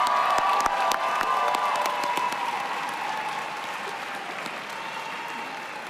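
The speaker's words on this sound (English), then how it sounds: "Please join me in a round of applause for our first Bachelor of Science in Public Policy graduate." Crowd at a public policy graduation ceremony applauding a Bachelor of Science graduate, sustained dense clapping with scattered cheers and whoops, heard from within a large hall and easing slightly toward the end.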